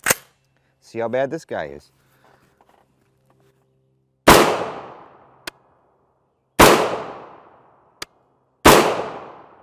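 Three sharp, loud 5.56 rifle shots from a 7.5 inch barrel firing 55gr FMJ ammunition crack out a couple of seconds apart, each with a decaying echo, following a brief spoken remark and with small clicks between shots.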